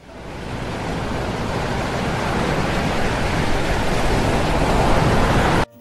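Ocean waves wash on a beach as a continuous, loud, broad roar of surf that swells slightly and holds steady before cutting off abruptly.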